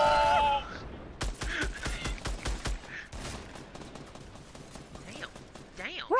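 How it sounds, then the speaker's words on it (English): Fortnite gunfire: a quick series of sharp shots rings out close by, followed by scattered softer game effects and a player's voice reacting. "Did you shoot a shotgun and hit-"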